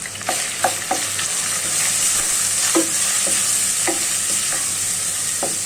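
Whole garam masala, turmeric, cumin and coriander powder fry in hot oil for an Eid-style goat liver bhuna. A strong, steady sizzle runs throughout, with rhythmic scraping strokes of a spatula stirring the pan, and no talking.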